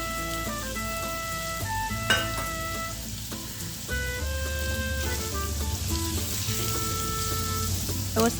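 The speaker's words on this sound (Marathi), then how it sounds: "पलटी करून छान फ्राय करून घेऊया आपण." Paneer pieces frying in oil in a pan for a methi paneer dish, a steady close sizzle with scattered crackles and pops and occasional clinks of a utensil, no talk over it.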